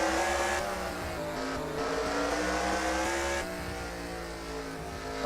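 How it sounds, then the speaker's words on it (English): Race cars in a racing video game roll down onto pit road, a loud continuous engine drone with shifting revs and whine, steady throughout with no voices. "some cars coming down onto pit road."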